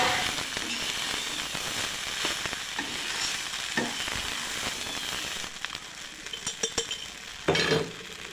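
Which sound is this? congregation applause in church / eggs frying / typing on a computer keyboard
eggs frying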